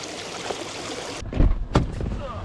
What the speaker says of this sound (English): It's fresh water running up from the mountain up there.